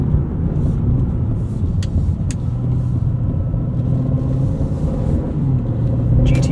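A 2024 Aston Martin DB12 cruising in GT mode, a steady low engine rumble with road noise underneath, close and even throughout, with a few faint clicks and no talk.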